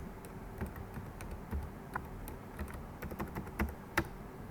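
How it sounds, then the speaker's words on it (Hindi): Steady, light tapping on a computer keyboard as an ID and password are entered, with quick irregular keystrokes and a few slightly heavier presses, close and fairly quiet. "सो यहाँ पे हम अपना आईडी पासवर्ड एंटर कर लेंगे।"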